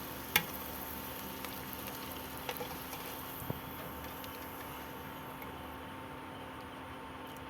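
Palm-fruit luchi frying in hot oil, a quiet, steady hiss of sizzling that runs continuously, with a few tiny faint clicks scattered across it.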